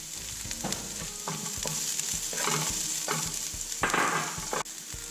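Ginger and an onion stir-fried for kimchi fried rice: a steady, close sizzle runs throughout, broken by repeated scrapes and clacks of stirring, with a louder scraping burst near the end.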